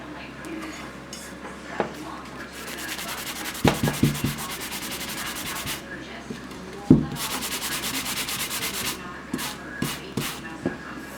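Repeated rubbing and scraping of sandpaper over a hard epoxy-coated tumbler surface in uneven strokes, with occasional knocks and bumps, close and moderately loud.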